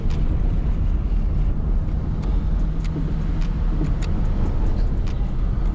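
A truck on a farm rumbling steadily nearby, a continuous low engine and road roar with faint scattered clicks over it, no talking.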